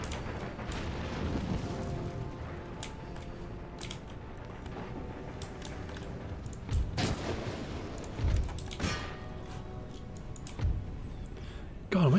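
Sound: artillery fire in Empire: Total War video game

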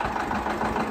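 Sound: John Deere 730 diesel tractor engine idling

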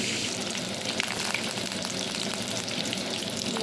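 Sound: eggplant frying in oil

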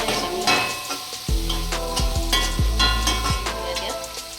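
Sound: paneer pan-roasting on full gas flame

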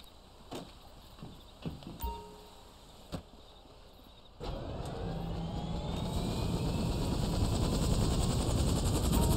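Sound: helicopter in video game GTA 5

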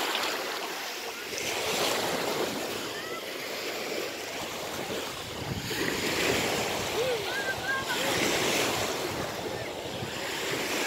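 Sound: sea waves on the shore at Olympia, Greece

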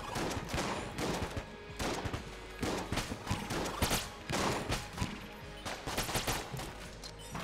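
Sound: trick gun firing in Enter the Gungeon video game

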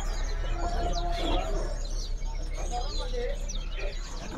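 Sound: Nias myna (jalak nias) singing

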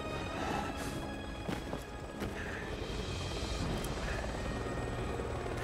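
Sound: helicopter in video game

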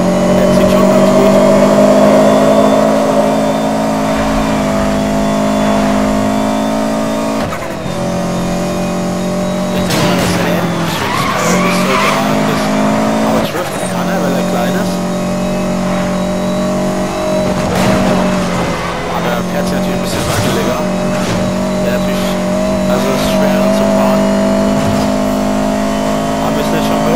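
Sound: car accelerating and skidding in video game Need for Speed Most Wanted

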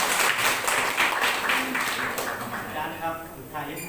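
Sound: audience applause

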